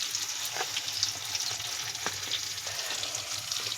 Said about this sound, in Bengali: আমি পেঁয়াজটা ভাজতে বসিয়ে দেবো। কড়াইতে তেল দিয়ে দিয়েছি, সঙ্গে তেজপাতা আর একটু কাঁচা লঙ্কা কুচিয়ে দিয়ে দিচ্ছি